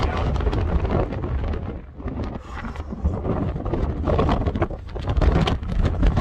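Strong winter wind on a Lake District fell blasts the microphone in loud, rumbling gusts that swell and ease, with a brief lull midway, continuous and close.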